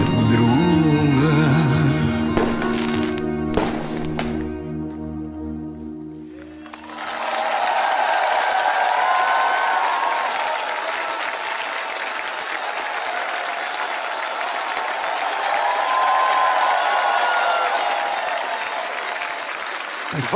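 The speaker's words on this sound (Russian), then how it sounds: "Ваши аплодисменты," A sung performance ends with sustained tones fading out, then a studio audience bursts into dense, steady applause on a television show, continuing strongly to the end.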